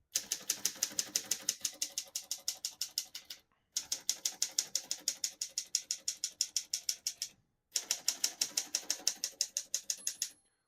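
Rapid, even clacking of keys on a 1934 Smith-Corona Flat Top portable typewriter in three bursts separated by short pauses, crisp and close, with a steady mechanical rhythm.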